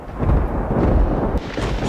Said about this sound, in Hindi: प्रदेश में बीती रात आए आंधी तूफान ने जमकर तबाही मचाई